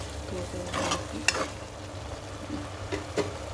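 Fish curry gravy is stirred in a pan, giving soft scraping strokes and a few light clinks over a low, steady simmering hiss.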